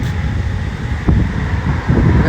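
Cold wind blows steadily outdoors on a sunny day in the UK, a continuous broad rushing with buffeting against the microphone and a couple of slightly stronger gusts, no talking.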